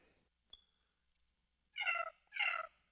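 Two short cat meows from a kitty button sound app play back clearly after a few faint mouse clicks, the second meow slightly longer, alone against near silence.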